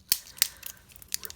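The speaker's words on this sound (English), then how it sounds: "Use this to cut the plastic." Scissors snipping through plastic toy packaging for a remote-control car, with three or four sharp, close, fairly quiet cuts and small rustles between them.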